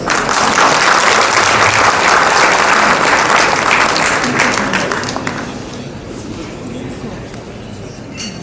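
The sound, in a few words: audience applause welcoming a speaker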